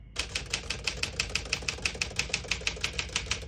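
Keys strike in quick, fairly even succession on a 1957 Smith-Corona Silent-Super portable typewriter, about twenty crisp clacks close by with a soft mechanical thump under each, with no voices.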